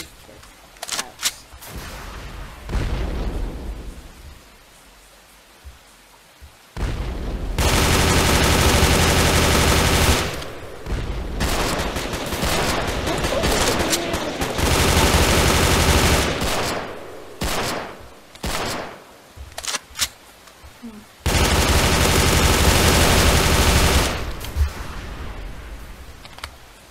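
Long, loud bursts of sustained machine-gun fire in the WW2 video game War Simulator roar in heavy blocks separated by quieter stretches, with scattered single shots in between.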